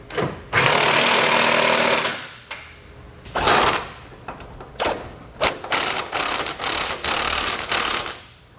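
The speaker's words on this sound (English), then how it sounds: "we can now go back and snug and tighten everything down" Bursts of a power impact tool with a 3/4 inch socket driving bolts and nuts while a Curt custom fifth wheel hitch is installed on a 2020 Chevy/GMC truck, several loud rattling runs of varying length with brief pauses.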